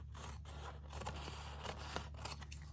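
Scissors snip through wax-coated paper, trimming off the unwaxed edge in a few quiet, crisp cuts over a steady low hum.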